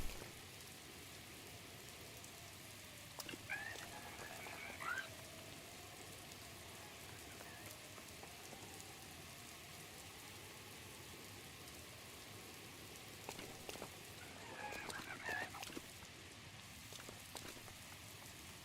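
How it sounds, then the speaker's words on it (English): Rain falls in the video game The Legend of Zelda: Breath of the Wild as a faint, steady patter under quiet game ambience, with a few brief louder sounds. "And naturally it's also raining"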